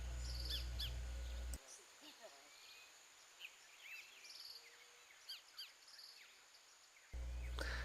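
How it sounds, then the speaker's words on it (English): An indigo bunting sings in Costa Rica or Guatemala, faint, high chirping notes repeated at a distance over a quiet background with insects, with no voices. "It's the indigo bunting."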